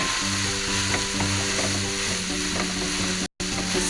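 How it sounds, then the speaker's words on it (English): Rice tossed and stirred into a dry-reduced black squid stir-fry sizzles steadily in a hot pan, with a broad, continuous frying hiss broken by light scraping strokes and a brief dropout near the end. "Then I will put the rice. And then stir it."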